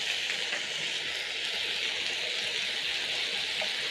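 A knob of butter melting and sizzling in a hot pan with potatoes: a loud, continuous bright frying hiss, close and steady throughout, with no talking.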